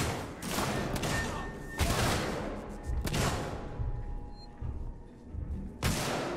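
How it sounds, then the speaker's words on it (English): Rapid bursts of video game gunfire in Alien: Isolation crackle in quick volleys, some shots booming louder than others, with brief pauses between the bursts. "Oh, gunshots can be heard."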